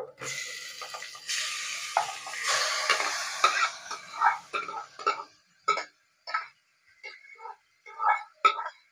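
Mutton stirred with spices in a pan, a soft sizzle early on, then irregular scraping stirs in short bursts, quiet and close.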